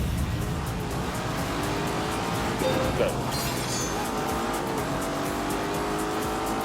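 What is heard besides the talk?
race cars starting a race in The Grand Tour video game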